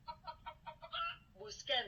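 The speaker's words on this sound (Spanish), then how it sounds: "Clo, clo, clo, las gallinas cacarean." Farm hens cluck in a quick series of short, rhythmic, nasal bursts, ending in a louder, higher cackle.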